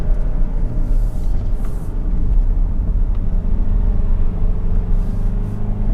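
A Kia Carnival 2022 engine pulls steadily up the Genting Hill climb on a wet road, a loud, continuous low rumble with faint road and tyre hiss, heard from inside the cabin.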